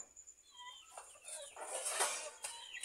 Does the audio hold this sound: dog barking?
no